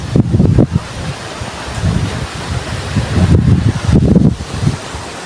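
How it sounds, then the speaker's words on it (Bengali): Strong, cold wind gusts through a village, roaring in uneven surges with buffeting on the microphone and no voices. "কেমন হাওয়া বইছে দেখতে পাচ্ছ"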